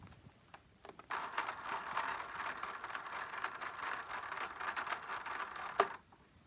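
A Lego full-auto shooter's motorized pusher mechanism, poking slowly after a trigger pull: a steady faint rattling mechanical whir running about five seconds and ending with a sharp click, close up and without talk.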